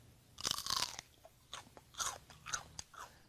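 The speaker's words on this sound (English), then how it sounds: "they have a tough fibrous cell wall that makes them rigid and gives them that crunch" Crisp crunching bites into a rigid, fibrous plant stalk, several sharp crunches in an uneven chewing rhythm, close and fairly quiet with no talk.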